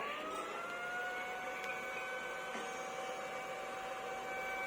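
A 12-volt cooling fan whirs steadily on a boat motor power unit, a constant airy hum with faint tonal whine, continuous and even throughout.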